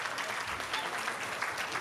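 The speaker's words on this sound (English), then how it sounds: "How about a little applause just to help us out?" Steady audience applause at a charity auction during a kids' award night, a brief continuous wash of clapping from a crowd.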